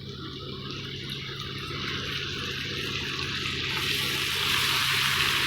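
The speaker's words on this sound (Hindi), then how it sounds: "प्याज को भी हमने अच्छी तरह से फ्राई करना है।" Chopped onions fry in hot oil with ginger-garlic paste for an egg curry, making a steady sizzle that swells gradually louder and brighter toward the end, with no voices.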